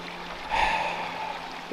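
Flowing stream water in woodland near a hidden waterfall, a steady broadband rush that swells louder after a quiet start and continues evenly throughout.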